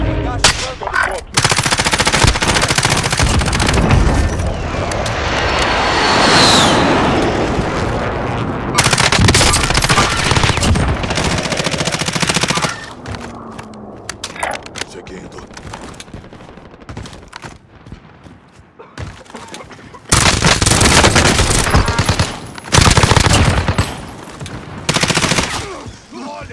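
Bursts of rapid automatic gunfire from Call of Duty Warzone with FFAR 1 and Bullfrog weapons, loud and close, alternating with quieter gaps and scattered single shots.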